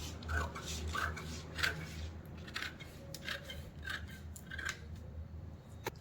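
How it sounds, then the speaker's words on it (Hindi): Scissors snip through folded paper while cutting a four-tuck blouse pattern, giving a series of close, crisp cuts and soft rustling rubs at an unhurried pace. "ये जो मैंने फोल्ड पे रखा था तो उसको मैं काट रही हूं"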